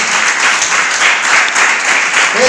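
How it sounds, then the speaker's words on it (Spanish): A church congregation bursts into loud, sustained applause, dense clapping from many hands filling the room evenly without letup. "¿Cuánto le dan un aplauso a Jesucristo?"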